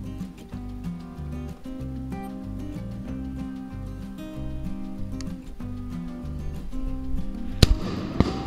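Shotgun blast during a duck hunt in eastern North Carolina, a single sharp loud report near the end, heard over steady rhythmic background music.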